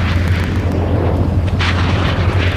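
Explosive impacts of TOW missiles fired from an AH-1 Cobra attack helicopter, a continuous heavy rumbling boom with a steady low drone throughout and a brief burst near the end.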